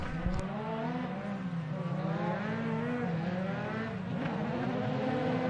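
Formula 3 cars rumble through their formation lap at Spa-Francorchamps, a layered engine drone with shifting pitches from several cars at moderate distance, steady and without speech.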